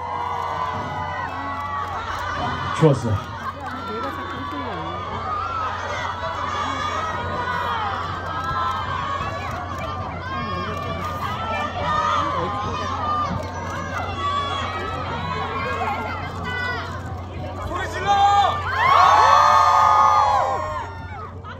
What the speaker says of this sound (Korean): 멋진 무대로 보여준 전우들에게 큰 박수 한 번 더 부탁드리겠습니다